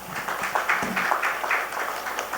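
Audience applause at a multimodal logistics summit session in Gandhidham, a steady wash of many hands clapping in a hall, moderately loud and sustained throughout with no one speaking over it.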